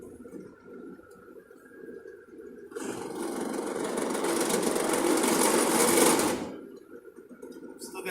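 A machine drilling a hole through a metal medallion gives a loud, steady high-pitched whine lasting about four seconds, rising from and falling back to a quieter motor hum.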